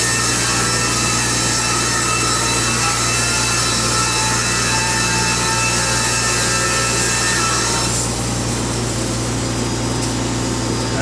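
An LP70 sawmill cuts green hemlock into siding boards, a loud, steady, continuous roar of blade through wood with a low motor hum beneath, the tone shifting slightly near the end of the cut.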